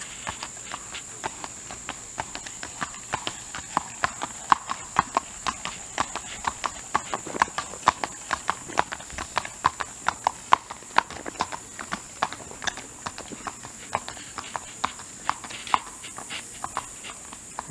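An 11-year-old smoky black gelding trail horse walks slowly on a loose rein down a road, its hooves clip-clopping in a steady, even rhythm throughout, close and clear with no talking.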